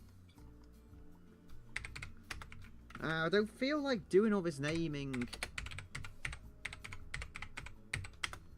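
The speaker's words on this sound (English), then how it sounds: "Although this keyboard is lovely, it's like I'm supposed to be doing art, not typing." Fingers patter quickly on a computer keyboard in a steady stream of clicks while a person talks over part of it.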